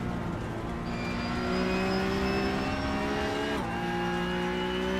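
A GT4 Porsche Cup racing car engine in a sim race drones loud and steady, its pitch climbing as it accelerates, with a brief shift partway through before revving on.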